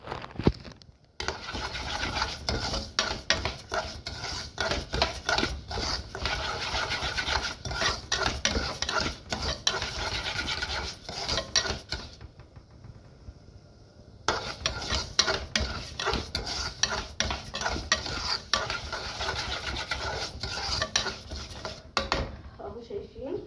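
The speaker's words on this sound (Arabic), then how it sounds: "ونقلب نقلب نقلب" Rice gets stirred in a pot with a continuous rough scraping and rasping, close and steady, with a short pause midway; a voice talks over it.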